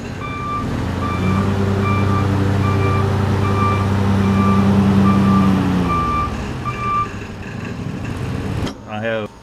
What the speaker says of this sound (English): This beep is a backup alarm that I actually have disabled right now.